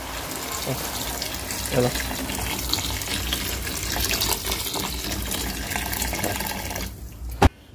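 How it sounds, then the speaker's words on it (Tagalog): Water is poured into a pot of sautéed octopus, a steady close splashing and hiss of liquid running into the pan over kitchen noise, ending with a sharp clank. "Lalagyan na natin siya ng tubig."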